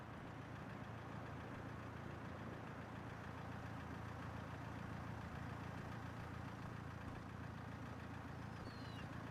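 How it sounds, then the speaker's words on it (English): A vehicle left idling in the Broken Sword 4 video game, heard as a steady, low, continuous engine rumble that stays faint and unchanged throughout, with no talking. "I can't click on the vehicle that they've left idling when they've all gone home"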